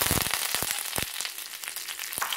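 Curry leaves hitting hot oil with mustard seeds, cumin and fenugreek, giving a loud, close sizzle broken by rapid sharp pops and crackles, densest at first and thinning out.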